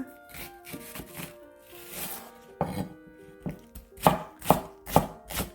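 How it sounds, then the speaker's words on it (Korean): A knife slices through half an onion on a cutting board in a run of close, crisp cuts that grow louder and more rhythmic toward the end. "양파 반개 썰고요"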